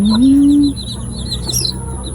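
A Black Australorp heritage layer hen lets out a loud, close drawn-out cluck that slides upward, followed by softer bird chirps and clucks over a quieter background.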